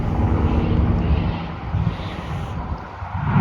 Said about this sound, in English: That Spitfire's going to come around, I think, and land.